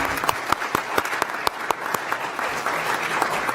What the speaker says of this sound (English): Let's give all of our honorees another round of applause